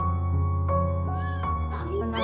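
A cat meows repeatedly nearby in a home, several drawn-out rising and falling cries in quick succession over a steady low hum, loud and close.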